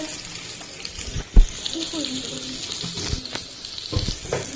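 Bitter gourd frying with egg in oil, a soft steady sizzle with a spatula scraping and stirring, one sharp clatter, and occasional faint background voices.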